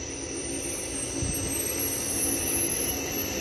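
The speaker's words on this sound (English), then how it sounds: "And then I would like to start the discharging screw." An explosion-proof 300L vacuum kneader's discharging screw runs with a steady, loud mechanical whine and broadband hiss, swelling slightly as it gathers speed.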